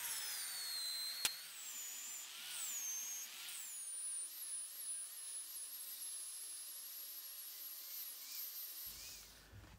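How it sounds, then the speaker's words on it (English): A wire wheel on a handheld restorer tool grinds black resin and Canadian walnut, giving a steady, fairly faint whirring, high-pitched scrape with a sharp click early on, running alone until it winds down at the end. "I put a wire wheel on it and found that this was a better tool for the job."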